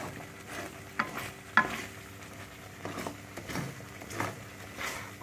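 Semolina being stirred nonstop in a pan for a homemade suji dish gives soft, repeated scraping strokes with occasional light clinks of the spoon, close but fairly quiet over a low background hum.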